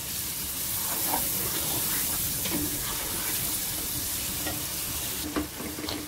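Masala of cumin powder and garam masala sizzles and is stirred in a pan for aloo matar pulao, a steady close frying hiss with scraping strokes of the spoon throughout.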